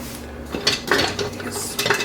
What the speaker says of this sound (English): Now that our butter is melted, we're going to add onions.